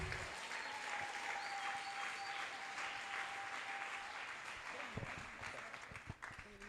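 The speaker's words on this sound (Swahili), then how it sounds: "Weka makofi kwa Yesu" A church congregation claps for Jesus in a sustained burst of applause, many hands together, fairly distant and moderately loud, tapering off near the end.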